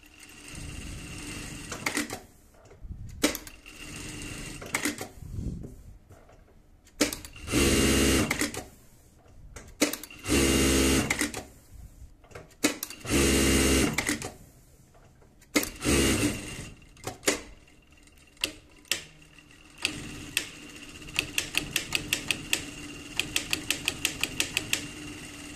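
A Sansei SA-MQ4 electronic straight-stitch sewing machine runs in several loud bursts of rapid mechanical stitching, separated by clicks and pauses, ending in a quick run of short stuttering stitches.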